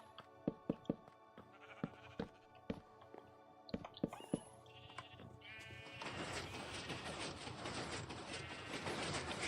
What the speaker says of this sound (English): Sheep are doing well.